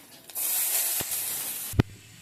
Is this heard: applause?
no